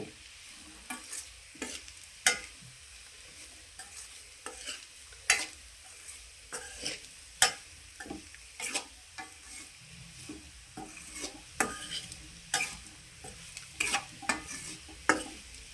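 Carrot fry being stirred in a pan with a spoon, irregular scraping clinks over a soft, steady sizzle, close and moderately quiet, with no talking.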